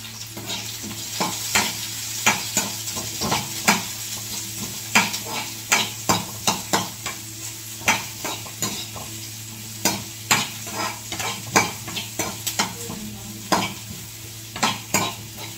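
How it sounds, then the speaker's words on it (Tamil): Onions sauté with salt in a pan for egg noodles, a continuous close sizzle punctuated by frequent rhythmic spatula scrapes and taps against the pan throughout, no one speaking. "வெங்காயத்துக்கு உப்பு, எல்லாத்தையும் போட்டு நல்லா வதக்கி விட்டுக்கலாம்"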